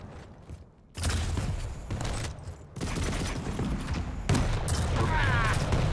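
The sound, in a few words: rocket explosion in Quake (video game)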